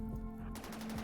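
Automated turrets fire in the video game RimWorld, a rapid burst of close, repeated gunshots over a steady low tonal hum from the game, lasting about a second.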